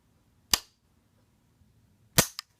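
An AR-15 rifle's trigger is released to reset, giving two sharp, crisp clicks about a second and a half apart, close and alone in a quiet room, the second followed by a faint extra tick.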